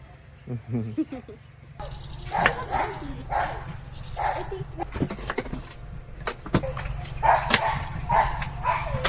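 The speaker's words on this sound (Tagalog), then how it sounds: "Tingnan ang aso." A dog barks repeatedly at moderate distance over a steady buzz of crickets at a campsite, with some background noise and a brief voice early on.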